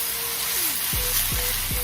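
Quesadilla filling of chicken sizzling and frying in an oiled skillet over medium heat, a steady close crackle with a few low thumps from stirring or shifting food.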